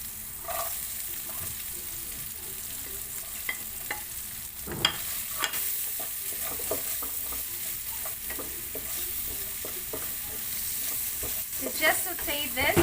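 Green chili and onion sauté in a pan for fish sisig, a continuous sizzle broken by frequent spatula scrapes and taps against the pan, close and steady throughout with no talking.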